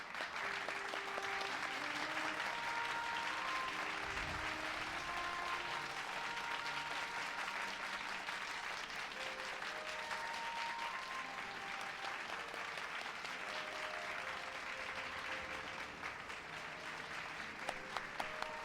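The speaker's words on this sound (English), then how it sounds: "Oh, we're gonna clap too." Crowd of characters in Final Fantasy XIV clapping and cheering at an in-game celebration in Eulmore, steady dense applause running the whole stretch with light music tones underneath.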